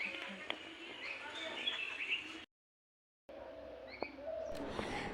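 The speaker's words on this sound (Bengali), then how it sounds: "ওই যে একে একে সব পাখিগুলো আসা শুরু করেছে" Birds arriving to be fed chirp and tweet in short, scattered calls near and far, broken by a silent gap partway through.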